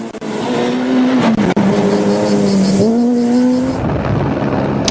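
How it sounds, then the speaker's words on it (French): A Mitsubishi Lancer Evo rally car engine at the 2012 Rally San Marino roars steadily at high revs for about five seconds. Its pitch dips once, then climbs again. The sound is loud and close, with no talk over it. "Gergely Chabot, le Hongrois, et sa Mitsubishi Lancer Evo XR4, 8e au classement général"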